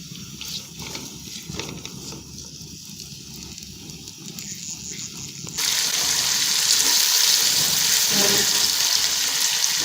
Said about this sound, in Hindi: प्याज तकरीबन हल्का सा पक चुके हैं, तकरीबन 2 मिनट से मैंने फ्राई कर लिए घी के अंदर